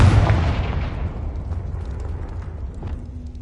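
A Confringo spell blast in Hogwarts Legacy, one loud booming explosion at the start that rolls into a long, fading rumble with scattered debris crackles.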